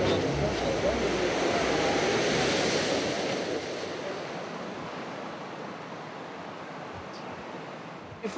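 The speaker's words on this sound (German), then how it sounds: "Die Wellen sind alle identisch." Artificial surf pool waves roll and break in a loud, steady wash that slowly eases and thins toward the end, a faint thump at the close, with no talking.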